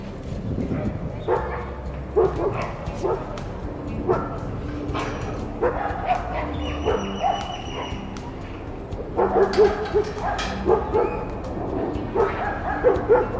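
Several dogs bark, yip and whimper in repeated bursts at an outdoor dog park, some near and loud, others farther off, with people talking in the background.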